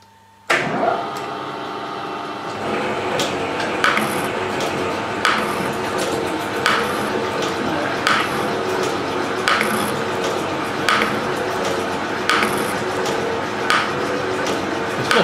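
A horizontal boring mill cutting steel angle plates starts abruptly, then runs with a loud continuous grinding hum punctuated by sharp metallic ticks roughly every second, with no talking.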